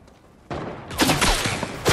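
Gunfire in a battle royale video game fires at the player in quick, sharp bursts, with several close, loud cracks clustered together.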